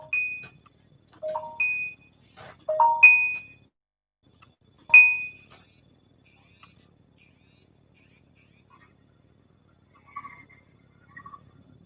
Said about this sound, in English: Why are you ringing my phone?